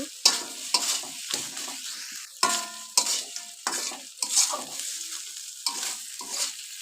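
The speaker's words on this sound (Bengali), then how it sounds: "ধনিয়া পাতা দিয়ে আর একটু মিশিয়ে নেব" A spoon stirs mashed fish and coriander leaves together in a pan for a fish bharta with stalks, a close series of rhythmic scraping strokes over a light sizzle, each push clearly separated, without talking.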